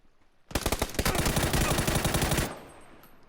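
Sustained automatic gunfire from a shooter game on the Miramar desert map, a rapid burst of evenly spaced shots lasting about two seconds, loud and close, then cutting off abruptly.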